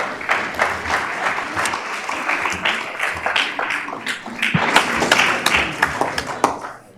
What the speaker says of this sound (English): I think you got some extra claps for the timing